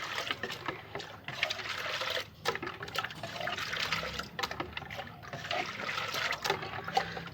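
Water is stirred to dissolve a homemade plant-food mixture in one litre of water, giving a soft, continuous sloshing and trickling close by, fairly quiet and uneven, with brief pauses.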